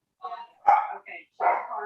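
A dog barks in the background of a town council meeting call, giving a few sharp, moderately loud barks in short bursts over roughly two seconds, with speech also picked up.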